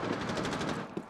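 Rapid automatic gunfire in Rainbow Six Siege, a fast steady stream of shots at moderate distance with one sharper crack near the end, no voices over it.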